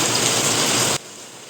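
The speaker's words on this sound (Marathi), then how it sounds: "सकाळी सकाळी झालेली आहे पावसाला सुरुवात" Steady morning rain falling outdoors, a dense continuous broadband hiss that holds evenly and then drops abruptly to a much quieter level partway through, with no voices.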